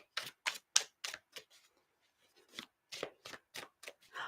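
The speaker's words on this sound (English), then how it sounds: "You guys see me shuffling this shit." Tarot cards being shuffled in a series of crisp, close riffles and slaps, each burst short and sharp, with a pause in the middle and no talking.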